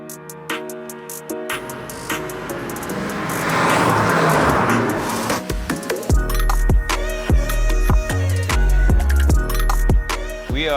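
Honda Civic Type R hatchbacks lap the Clark International Speedway track, with a loud car engine rising and sweeping past before rhythmic music takes over alongside the driving noise.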